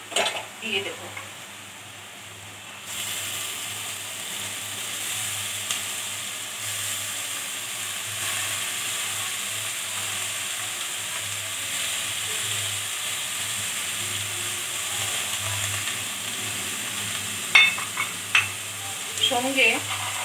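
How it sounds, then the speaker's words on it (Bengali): Old papaya hisses and sizzles in a hot pan while a utensil stirs it. After a quieter start the frying noise stays steady, with a few sharper scraping clacks near the end. "একটু ভাজা ভাজা হয়ে গেছে, এবার আমি পুরানো পেঁপেটাকে দিয়ে দেব।"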